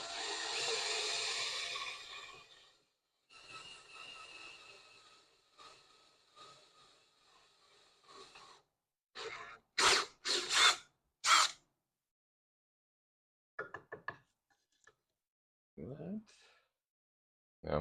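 A power drill fitted with a slightly larger bit whirs in a sustained run, then stops, followed by several short bursts and bumps of handling, close and moderately loud with a brief voice at the start.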